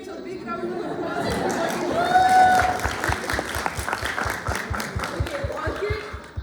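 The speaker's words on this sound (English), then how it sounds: "big round of applause" A seminar audience breaks into steady applause mixed with chatter and a few whoops, the clapping dense at first and thinning toward the end.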